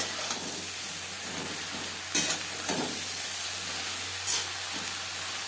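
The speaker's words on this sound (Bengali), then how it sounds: "4-5 মিনিট নাড়াচাড়া করে নেব।" Katla fish curry spices with turmeric and salt frying in a pan over high-to-medium flame with eggplant, a steady close sizzle and hiss broken by a few louder scraping stirs, no voices.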